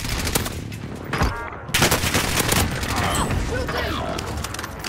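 Bursts of rapid automatic gunfire in Call of Duty: Modern Warfare, dense cracking shots through most of the stretch, close and loud, with voices calling out over the combat.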